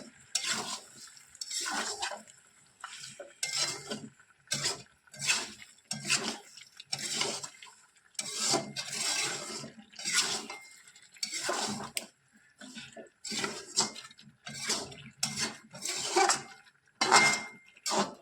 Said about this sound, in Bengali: ভালো করে নেড়ে দিই মশলাটা যাতে সব জায়গায় লেগে যায় মাংসের মধ্যে